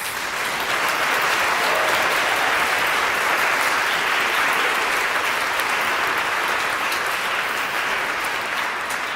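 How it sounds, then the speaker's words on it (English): Dense, steady applause from a church congregation honoring children after a Sunday worship service, loud and continuous throughout with no break or talk. "a round of applause for our wonderful kids"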